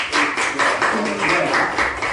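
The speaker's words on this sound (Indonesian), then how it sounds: "berikan tepuk tangan untuk kelompok 3" A classroom audience claps for a student group after their presentation in a public economics class, a steady burst of applause from several people lasting about two seconds.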